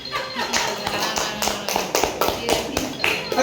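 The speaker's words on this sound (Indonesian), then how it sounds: "Tepuk tangan buat Bapak Ibu." Primary school teachers clap in a room in a steady rhythmic pattern of sharp, evenly spaced claps over a light background murmur.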